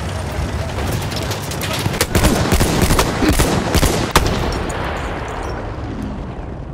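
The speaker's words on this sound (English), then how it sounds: "Throw a grenade!" Battlefield 1 combat din with dense gunfire and blasts, a sharp explosion standing out near the four-second mark, all continuous and loud under shouted voices.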